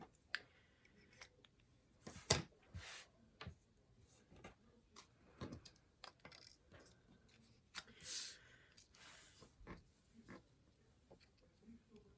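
Scissors cut through paper for a dovetail on a stamping project, giving a series of crisp close snips and slicing crunches at irregular intervals, quiet and near, with a person speaking softly in between.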